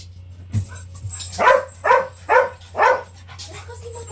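A dog barks four times in a steady run, close and fairly loud, over a low steady hum, with a couple of faint yips before.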